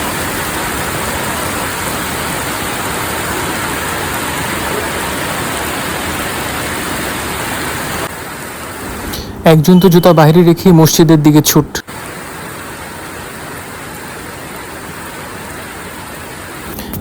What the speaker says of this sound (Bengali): খুব সম্ভবত বাংলাদেশের মতো এত সুন্দর বৃষ্টি পৃথিবীতে কোথাও হয় না